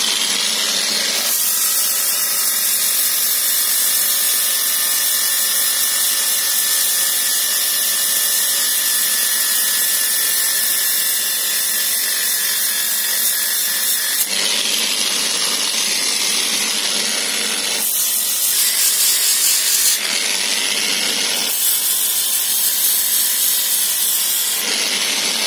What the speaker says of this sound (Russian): ставим на болгарку на самые минимальные обороты